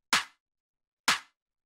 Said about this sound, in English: punchy main clap like this that hits really hard